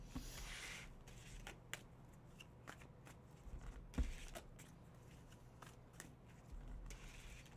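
Tarot cards are shuffled in quick, crisp riffles and flicks, close and fairly quiet, repeating in short bursts with soft handling noises between.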